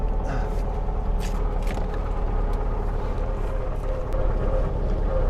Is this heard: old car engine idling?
yes